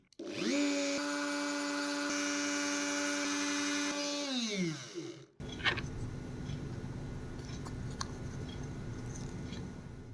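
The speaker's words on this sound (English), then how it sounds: "I'll just test other end bits on this Dremel and see what works best." A Dremel rotary tool with a test bit whines up to a high, steady spin and runs for several seconds, then winds down and bites into a test piece with rougher, scratchy cutting noise.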